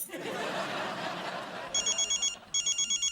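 A telephone rings in two bursts of shrill repeated trills at the end, after a stretch of indoor noise with faint laughter.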